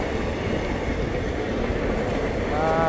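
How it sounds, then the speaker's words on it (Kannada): A connecting train pulls into a station on the Hassan to Bangalore route, a steady broadband rumble of wheels and carriages with a faint tonal squeal rising near the end, moderately loud and continuous. "ನಮ್ಮ ನೆಕ್ಸ್ಟ್ ಕನೆಕ್ಟಿಂಗ್ ಟ್ರೈನ್ ಅಲ್ಲಿ ಸಂದಿನಲ್ಲಿ ಇಂಟಾಗ್ತಾ ಇದೆ ನೋಡಿ"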